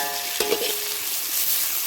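Onions and bay leaves fry in hot oil for a biryani, giving a steady, bright sizzling hiss close by with a couple of faint knocks near the start, with no speech.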